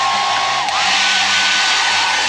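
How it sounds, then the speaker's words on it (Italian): A hair dryer runs steadily on power from a Bluetti AC200 Max portable power station, a loud continuous whoosh of fan and motor with a brief dip in pitch partway through. "phon funziona, vedete?"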